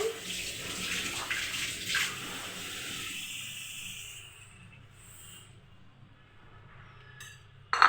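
Water runs and sloshes into a bowl of ground coriander, chili and cumin powders while being stirred together, steady and close for several seconds, then fading to quieter mixing sounds and a sharp knock at the end.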